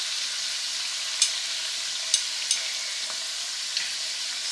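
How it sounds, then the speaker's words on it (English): Coated food fries in oil during Guyanese cooking, giving a steady high hiss of bubbling oil with a few sharp pops and crackles scattered through. "leave it, just leave it, let it fry"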